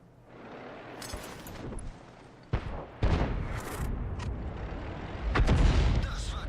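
A Sturmpanzer II tank gun fires in a tank video game, a sudden heavy boom that cuts sharply through the low engine rumble. Further thuds and bursts of battle noise follow against a steady mechanical drone.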